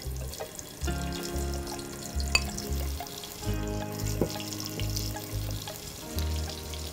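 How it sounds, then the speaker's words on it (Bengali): Rice frying in oil with chopped onion in a pan, a steady sizzle with sharp hiss bursts and faint clinks of stirring, close and alone. "চালটাকে ভাজব।"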